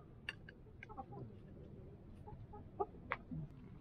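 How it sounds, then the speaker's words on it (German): Chickens clucking faintly in the background, a few scattered short calls over a quiet, noisy backdrop. "Und im Hintergrund gackert's."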